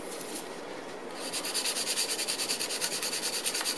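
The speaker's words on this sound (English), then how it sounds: "as I sand this, I'm going to keep going up a grade in the grit of my sanding stick" A quick, rhythmic back-and-forth scratching of a sanding stick rubbing a seam on a small plastic tank model part, starting after a second of quieter rubbing and continuing steadily.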